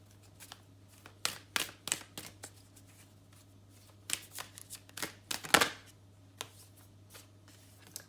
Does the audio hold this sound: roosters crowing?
no